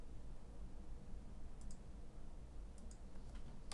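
Soft, faint computer mouse clicks in a quiet room, a few isolated single and double clicks spaced out over a low background hiss.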